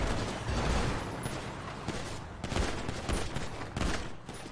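Rapid, overlapping gunfire rattles through a GTA roleplay gang fight between the Grove Street crew and the Ballas, bursts landing densely for several seconds and swelling in spots, with no talking over it.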